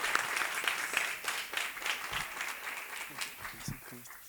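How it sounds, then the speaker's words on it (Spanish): An audience applauds at a community leaders' forum, a steady wash of clapping over roughly four seconds with some voices mixed in underneath. "les agradezco un aplauso para mis 3 experiencias gratificantes del día de hoy"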